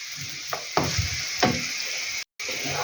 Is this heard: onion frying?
yes